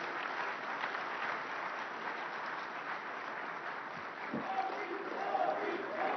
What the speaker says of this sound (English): Ladies and gentlemen, please give a huge round of applause to the man with the Midas touch, Prime Minister Narendra Modi.